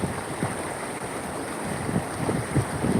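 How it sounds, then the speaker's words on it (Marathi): A swollen river running high after heavy rain and strong wind, a broad rushing roar with low surging swells and wind buffeting the microphone. "भरपूर प्रमाणात पाणी आलं आहे नदीला"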